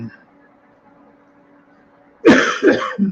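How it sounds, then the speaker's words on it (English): A quiet stretch with faint background hum, then a burst of coughing near the end: a few harsh, close coughs in quick succession. "I still have a little bit of a cough"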